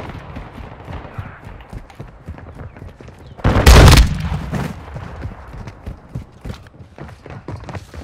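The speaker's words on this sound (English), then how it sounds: "I'm stuck on a shotgun!" A shotgun fires in Call of Duty: Modern Warfare II, one loud, close blast with a short echoing tail over a busy background of game noise and distant gunfire.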